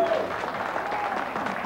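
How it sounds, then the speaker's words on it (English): A talk show studio audience applauds, a steady wash of clapping that holds evenly throughout without voices over it. "Well, you're applauding"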